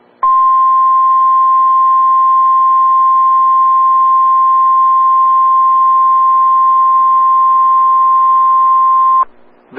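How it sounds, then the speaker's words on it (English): A loud, steady NOAA Weather Radio warning alarm tone during a weekly test holds at one pitch for about nine seconds, then cuts off abruptly. "This is a test of the National Weather Service NOAA Weather Radio All Hazards Warning Alarm System"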